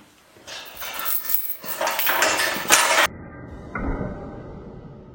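A hammer strikes another hammer on a workbench with a sharp metallic clank, followed by rattling clatter as the Ghidorah hammer's head flies off and tumbles under the bench.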